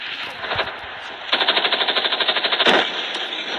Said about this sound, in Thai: ปืนมันลั่นน่ะ ปืนดีดดิโคตรดีดเลย